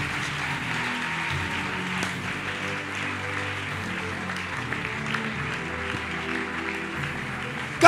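A church audience claps in sustained, dense applause, a steady rain-like patter filling the whole stretch and continuing at an even level.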